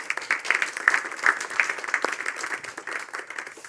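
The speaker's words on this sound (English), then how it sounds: "I think we should give us a big applause to all of us." An audience at the end of an economic policy conference in Helsinki bursts into steady, dense applause, loud and close, continuing without pause for the whole stretch.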